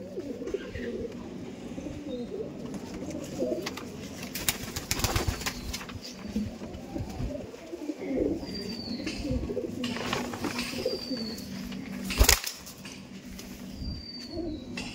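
Pigeons coo softly in a backyard loft, low murmuring calls rising and falling over a steady ambient hum, with a few brief louder bursts and faint distant bird chirps.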